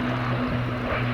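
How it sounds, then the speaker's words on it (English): The Avro Lancaster PH-474, a four-engine heavy bomber, drones overhead at an air show, with a steady low propeller hum that stays even and moderately loud for the brief moment. "Our Lancaster PH-474, which is one of only 2 of these iconic 4-engine heavy bombers still airworthy"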